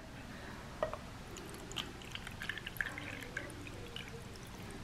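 Water poured from a one-cup measure into a bowl of Duncan Hines cake mix in a home kitchen, a soft, quiet splash and trickle with a few light clinks, close and without talk.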